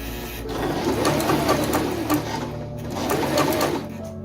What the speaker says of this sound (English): Sew stitch AC 6 to 8 times across the first horizontal mark